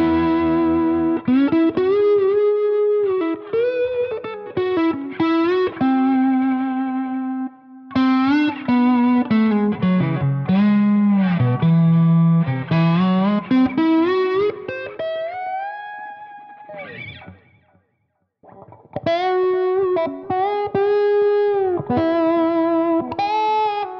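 A Vintage V6 Thomas Blug Signature electric guitar is played with a slide through distortion and chorus effects, gliding sustained notes and bends in phrases with brief pauses, loud and alone without talk.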